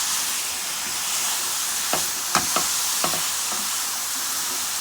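About 2.5 cups of fresh cranberries cooking in melted sugar in a pan, a steady close sizzling hiss broken by a few soft pops and stirring knocks.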